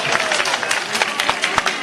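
Crowd at a political rally in Madhya Pradesh claps loudly to welcome young legislators, dense continuous applause filling the short stretch with no voice over it.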